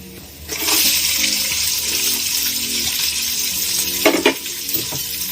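Chopped onions go into a pan of hot oil with lightly popped cumin seeds for jeera rice, setting off a loud, steady sizzle close by, with a few scraping stirs near the end.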